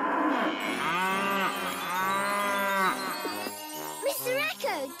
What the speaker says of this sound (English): Can you echo back the sound of the cows, Mr. Echo?